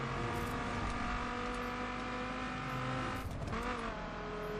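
A circuit race car from The Crew's Extreme Car Pack, its engine holding a steady, loud, buzzing drone with a brief dip and shift partway through, heard alone without speech.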